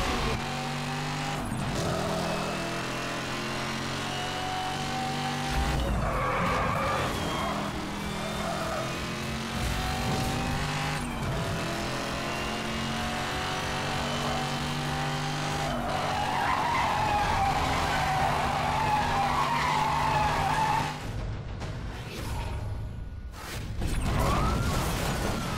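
A race car in the Need for Speed Hot Pursuit Remastered video game roars steadily with a loud engine drone, broken by repeated long tire skids and squeals, with a sharp burst of noise near the end.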